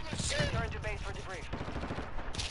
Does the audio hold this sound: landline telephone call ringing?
no